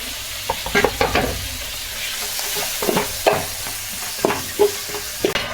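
Chopped tomato is stirred into onions frying in a pan, a close, continuous sizzle punctuated by repeated scraping and knocking strokes of a spoon at an uneven pace; no talking.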